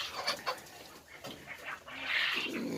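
Four-month-old Fayoumi chickens cluck in short, separate calls close by, then break into a louder, sustained squawking at the end, with a faint dog-like sound in the mix.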